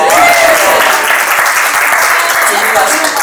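Loud, dense applause from wedding guests filling the room evenly, with a voice briefly heard at the start.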